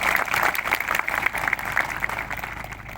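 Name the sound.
audience applause for a guest at a rally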